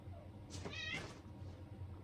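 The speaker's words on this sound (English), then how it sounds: "The cats, they be fighting." Cats fighting indoors, one drawn-out strained meow rising and wavering for about a second, fairly close but low in level over a quiet room hum.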